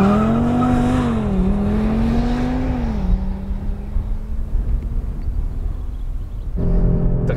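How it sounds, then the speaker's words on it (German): Audi RS3 (2022) under launch control at full throttle, its engine note loud and close, climbing in pitch through rising revs, dipping at a gearshift, then droning steadily before a fresh surge near the end; no talking. "Dann muss man in S gehen für die Launch Control. Vollbremse, Vollgas."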